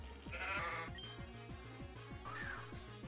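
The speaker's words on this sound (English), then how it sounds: "I can't move without getting swarmed by these freaking sheep." Sheep bleat in the Pokemon Uranium video game, two wavering cries heard up close, each a short quavering call, over a bouncy repeating game music loop.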